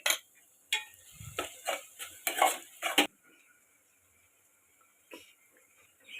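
Turmeric stirred into tomato curry in a metal pan: a quick run of sharp spoon clinks and scrapes against the pan, then near silence with one last clink.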